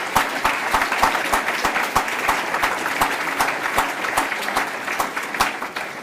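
Audience applause at a City Club speaker event, dense and steady clapping from a full crowd lasting throughout, with no talk over it.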